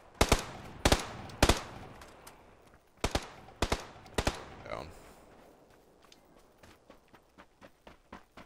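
Video game gunfire cracks out in sharp clusters of rapid shots, loud at first and then fading to quieter, more distant pops, with a brief voice sound in between.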